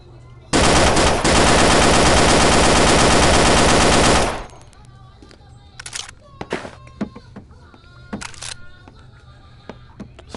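A Bren light machine gun in the VR game Gun Club VR fires one long, loud, continuous burst of rapid shots, followed by a few scattered mechanical clicks and clunks.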